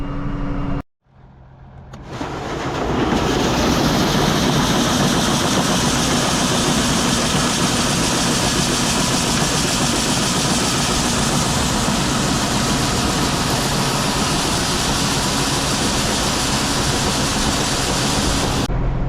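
A tractor engine runs steadily and loudly while an auger wagon is loaded on a farm during corn harvest, a continuous broadband drone that briefly dips near the start, then holds constant, with no talk.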